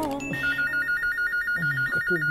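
A telephone rings in a Cebuano radio drama, giving a steady, warbling electronic trill that repeats in quick pulses close to the listener over a low, murmuring background.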